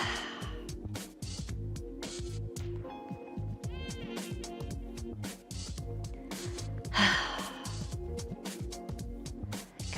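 Deep, slow inhaling and exhaling during a yoga flow, soft breaths rising and falling over a steady background of gentle music.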